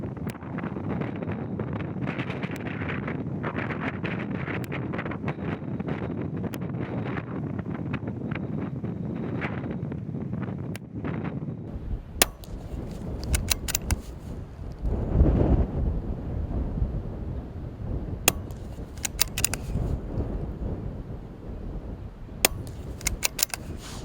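Gusty outdoor wind rumbles and buffets the microphone during a rabbit-shooting outing with a .22 rifle, heavy for the first half and then lighter, with faint clicks and knocks scattered through.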